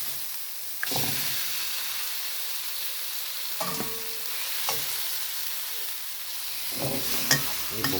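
Beef sizzling and being stir-fried in curry paste in a pan over medium heat, a continuous loud hiss broken by several scraping stir strokes.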